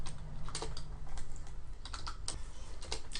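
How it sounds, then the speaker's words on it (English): Close, steady clatter of a computer keyboard as a student name is typed, a quick run of light key taps with no voices. "so just type in student name"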